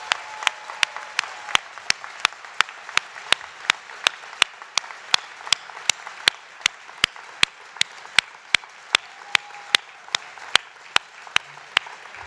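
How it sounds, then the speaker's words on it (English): An audience at a school district gathering honouring a retiree of 37 years claps in steady unison, sharp evenly spaced beats repeating about three times a second over a soft crowd background. "let's give her a round of applause for 37 years."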